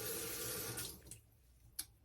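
A tap pours water into a sink to thin sharpening slurry, a steady broadband rush for about a second before it cuts off, followed by a quiet lull and one small splash or drip.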